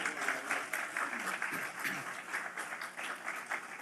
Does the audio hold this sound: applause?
yes